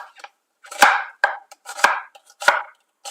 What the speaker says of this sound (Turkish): Domateslerimin üzerine kuru soğanlarımı hemen piyazlık olarak doğruyorum.